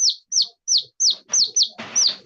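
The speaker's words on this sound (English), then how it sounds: "one of the turkeys." A young farmyard turkey gives a run of about eight high, downswept peeping calls in quick succession, close and clear, with faint background rustle growing toward the end.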